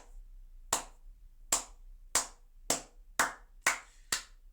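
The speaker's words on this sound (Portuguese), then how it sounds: "palmas lentas para esse homem" Slow, deliberate hand clapping: eight single, crisp claps spaced evenly about half a second apart, close and clear with nothing else heard.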